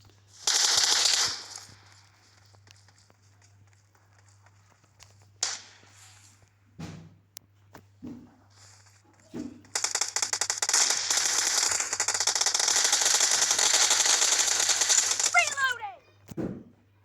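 Video game weapon gunfire: a few scattered single shots and short bursts, then a long, loud, continuous stream of rapid automatic fire that ends with a final sharp crack.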